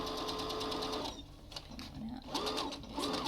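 A sewing machine stitches a cloth face mask, running forward, pausing, then reverse-stitching over the elastic in short whirring bursts with a rising and falling motor whine.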